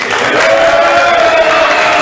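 A church congregation at a Sunday evening service cheers for the guys, a dense, steady wash of crowd voices and shouts filling the room at close range, with a sustained vocal tone rising above the noise.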